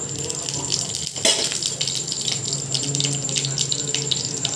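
Dried red chillies sizzle in hot mustard oil in a pan, a dense continuous crackling hiss with a brief louder burst, heard up close with a faint voice in the background.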